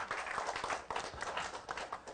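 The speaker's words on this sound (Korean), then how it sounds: "박수 한번 주시겠어요?" Audience applause at a Korean startup crowdfunding seminar, a steady wash of many hands clapping throughout with no clear voices on top.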